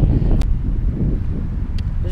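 Strong, steady wind in Austin, Texas buffeting the microphone with a low rumbling roar, punctuated by a couple of brief clicks.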